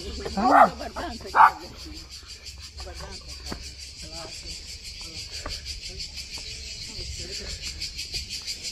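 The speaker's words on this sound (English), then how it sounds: "I think that's cicadas." Steady high-pitched cicada buzzing drones continuously throughout in Split, Croatia, with a brief spoken greeting and some footsteps near the start.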